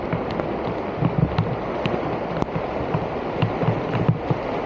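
Floodwater of the Pacugao River in Maria Aurora, Aurora rushes hard after Typhoon Nika. A loud, continuous roar of churning water holds steady throughout, with small splashing bursts and no talk.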